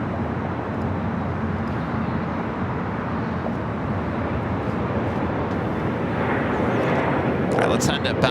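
A WestJet airliner begins its takeoff roll at Los Angeles International, a continuous, even broadband engine rumble that builds slightly toward the end, with faint chirps over it.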